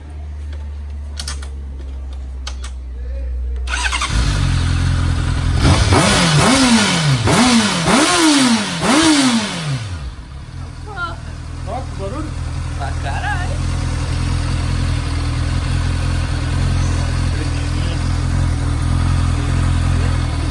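A Honda Hornet motorcycle engine idles, then revs up several times in quick, rising blips before settling back to a steady, loud idle, with people talking nearby.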